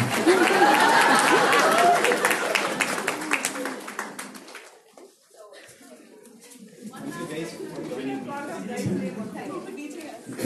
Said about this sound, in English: A round of applause, everyone, for Chami, Darshan and Harleen, Mindtree's